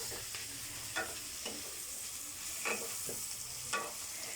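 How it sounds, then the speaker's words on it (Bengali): Fried rice is being stir-fried in a pan for a Christmas dinner, with a constant sizzle broken by a few scraping stirs of the spatula, heard close up and without any talk. "এইটাও ভাজা হচ্ছে আস্তে আস্তে"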